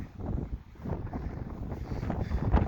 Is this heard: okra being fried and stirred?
no